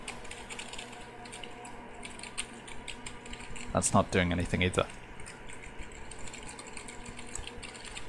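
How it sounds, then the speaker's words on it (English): Someone pushing buttons on a computer keyboard while trying to set a clock in a puzzle game, a quick cluster of close clicks and taps lasting about a second amid low room noise, with a short spoken remark nearby. "I'm gonna start pushing buttons on my keyboard"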